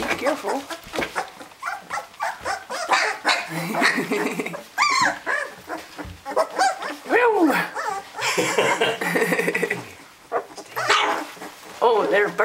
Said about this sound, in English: Oh, they're barking.